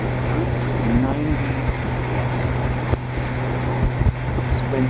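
Strong wind roars across the microphone while riding a Gen 6 Honda Goldwing on the open highway, a loud, constant rushing buffet with engine and road rumble underneath and occasional thumps.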